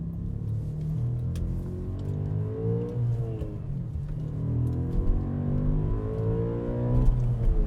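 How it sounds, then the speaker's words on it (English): Audi RS4 B7 naturally aspirated V8 heard from inside as it accelerates, engine note sweeping up through the revs, dropping at a shift, then climbing again, a deep harmonic growl with a rising whine, no talking. "this is a properly high revving, naturally aspirated V8"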